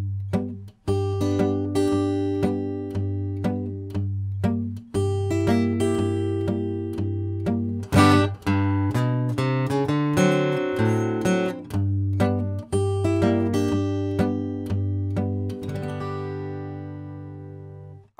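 Acoustic guitar fingerpicked in a Travis pattern on the tune I Am A Pilgrim, a steady alternating bass thumb under plucked melody notes, close, clear and loud over several bars, played alone without talk.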